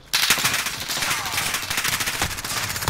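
An MP7 submachine gun fires in a video game after a short quiet start, a close, rapid rattle of automatic gunfire that continues to the end.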